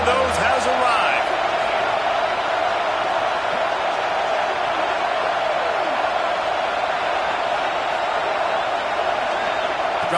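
A packed football stadium crowd roars steadily through Arizona State at Utah, a dense, loud, unbroken wall of cheering that goes on the whole time, with a commentator talking over it.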